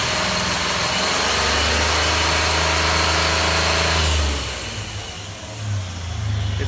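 A 2003 Jeep Liberty 3.7 liter V6 with a bad transmission holds a raised rev, then drops back to idle, swells briefly again and settles, loud and close with no voices.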